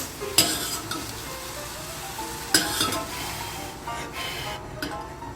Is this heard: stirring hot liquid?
yes